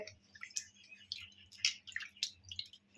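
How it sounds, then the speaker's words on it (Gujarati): Dirty water drains from soaked quinoa, faint wet dripping and squishy trickling in irregular bursts with soft splashes up close, with no voices. "જો એકદમ ગંદુ પાણી હોય એને આપણે કાઢી લઈશું"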